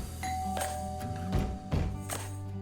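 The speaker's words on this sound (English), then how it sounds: "the doorbell rang, shattering the peaceful atmosphere" A doorbell chimes with clear, ringing tones, a few struck notes sustaining over a quiet room, fairly close.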